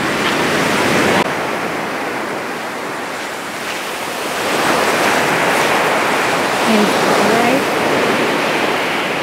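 Ocean surf washing steadily onto a bright beach at a high tide, a broad continuous roar that swells midway, with wind buffeting and a brief spoken word.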